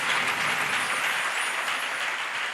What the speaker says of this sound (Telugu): చప్పట్లు కొట్టి వాస్తవంగా మయంపరచాలి.